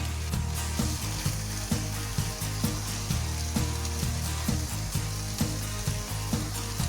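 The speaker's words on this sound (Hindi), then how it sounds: "इसको फ्राई करेंगे अच्छे से हम ऐसे ही।" Kashmiri saag greens frying in a pan, a steady loud sizzle with rhythmic scraping or stirring strokes repeating about every half second throughout, no voices.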